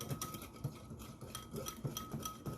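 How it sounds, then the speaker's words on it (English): A whisk stirs a yeast and sugar mixture for sandwich bread in a bowl, making quick, light, rhythmic ticking and swishing strokes close up. "we're gonna do a little whisking of that so that yeast"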